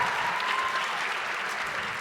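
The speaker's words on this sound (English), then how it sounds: "so please give them some applause as well." Steady, dense applause from an audience at a high school holiday concert, filling the hall evenly for about two seconds with no break in the clapping.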